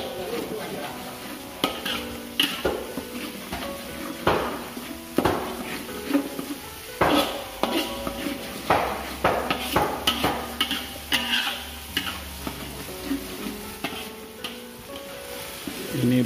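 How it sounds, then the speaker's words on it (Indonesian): Sambal udang rebon, a chili paste with tiny dried shrimp, stirred and flipped in a frying pan, with repeated scraping strokes and clinks of a utensil over a steady low sizzle, close and fairly loud. "Kita aduk, kita bolak-balik seperti ini biar tidak gosong."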